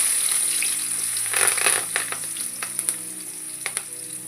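Onion and curry leaves tossed into hot oil already holding mustard seeds and cumin, crackling and sizzling steadily, with sharp pops and spits and a few stirring scrapes, close and loud with no talk.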